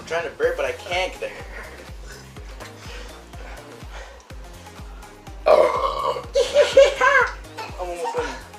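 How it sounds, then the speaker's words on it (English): Burps come after gulping down a two-liter bottle of soda, loud and guttural and repeated in bursts among giggles and a child's chatter and laughter. "I'm trying to burp, but I can't get there."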